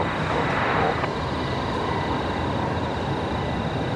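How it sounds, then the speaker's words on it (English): An Airbus A320 taxiing at Brisbane Airport produces a loud, steady jet engine roar with a broad rushing hiss and a sustained high whine, heard continuously and fairly close, with no talk over it. "there's the A320 there, turning left onto Alpha 7 now"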